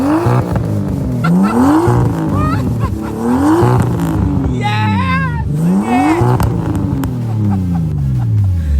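A Nissan Skyline R33 with a new straight pipe exhaust revs repeatedly in rising sweeps, with a raspy exhaust and whistling turbo between pulls, and a brief excited shout.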